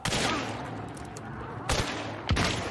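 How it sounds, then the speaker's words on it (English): Shotgun blasts in a zombie shooter game, two sharp nearby bangs about half a second apart after a dense, noisy stretch of game sound, with no talk. "Shotgun."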